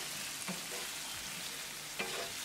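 Garlic butter mushrooms sizzle steadily in a pan while a utensil stirs them, with two soft scraping strokes standing out over the frying.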